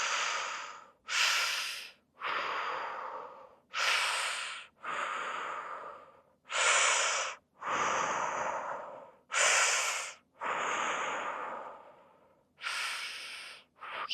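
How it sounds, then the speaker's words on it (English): Exercise breathing during a fascial maneuver class: about ten loud, close, airy breaths alternating inhales and exhales through the mouth in a slow, steady rhythm, with no talk. "Breathe in through the mouth and out."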